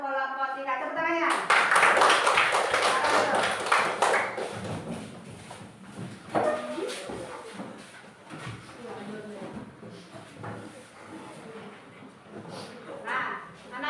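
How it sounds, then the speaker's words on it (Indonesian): Schoolchildren in a classroom clap for a presenting group, a short burst of hand claps that fades into chatter and voices talking. "Terima kasih untuk kelompok 3. Tepuk tangannya."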